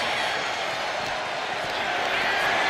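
Wrestling arena crowd in WWE 2K25 roars as a loud, sustained wash of cheering and noise, steady throughout and filling the space, with a commentator talking faintly underneath.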